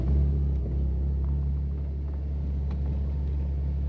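A 1954 car's engine drones steadily from inside the cabin while driving in second gear toward a roundabout, a continuous low, even rumble with no distinct revs.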